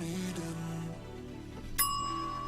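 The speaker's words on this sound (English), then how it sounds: "I would like a bell." A single bright bell ding rings out over background music, sharp at its strike and then holding a steady, lingering tone.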